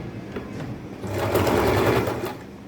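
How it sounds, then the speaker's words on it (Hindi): A sewing machine stitches down the folded pleats of an old saree, a close, loud, steady rapid whirring run that swells in the middle and then eases off. "पहले इस पर सिलाई चला लें जिससे कि ये प्लेट रुक जाए।"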